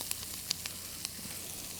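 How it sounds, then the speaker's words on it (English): Snow peas, carrots, peppers and shiitake mushrooms stir-fry in a hot pan, giving a close, steady hissing sizzle with a few sharp crackles and pops. "So we've got snow peas, carrots, peppers. We're stir frying that up."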